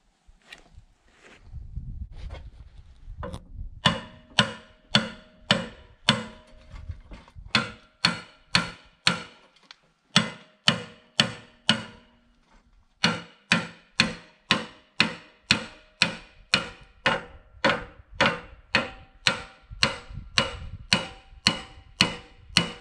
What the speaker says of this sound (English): Just need a bigger hammer.